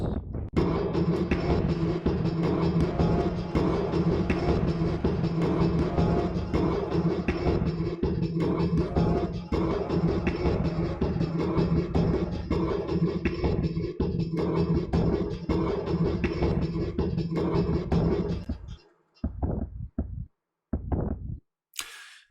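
Layered percussion hits pile up in a dense, busy groove for most of the stretch, then break off into a few scattered final hits.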